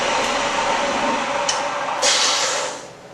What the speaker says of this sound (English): once you get this belt sander turning, make the round edges, clean up the sides, clean up the surfaces.